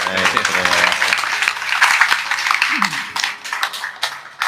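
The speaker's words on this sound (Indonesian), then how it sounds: "tepuk tangan untuk kita semua" An audience claps at a talk, a dense patter of applause running under people speaking, with a few sharp taps standing out before it thins near the end.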